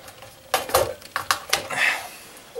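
HDX aviation snips bite through thin sheet metal in a handful of sharp metallic crunches and clicks, spaced irregularly and close, with a brief scraping rasp near the end.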